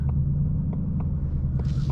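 Ford Mustang Mach 1, a 2023 model with the 5-liter V8 and Tremec 6-speed manual, holds a steady, deep low rumble from inside the cabin, continuous and even with no speech.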